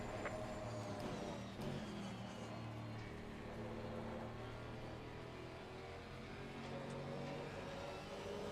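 Race car engines in GT4 competition at Laguna Seca, a steady, dense engine roar that holds at an even level throughout, with no clear surge or pass.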